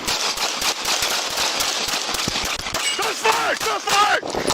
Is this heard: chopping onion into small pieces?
no